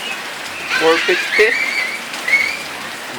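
Heavy rain pouring down outdoors while children play in it, a steady broad hiss throughout with a voice talking over it and brief high whistle-like tones.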